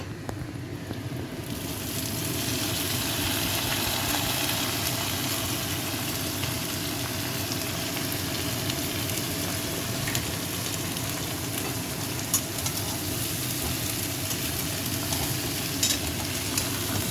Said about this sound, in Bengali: সবজিটা দিয়ে একটু ভেজে নেব।